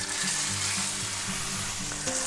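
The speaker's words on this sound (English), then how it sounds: "Now we're going to take our nice ribeye and we're going to put that right in there" A ribeye steak sears in a hot pan with a steady, loud sizzle, joined by a low electrical hum and a few soft clatters near the end.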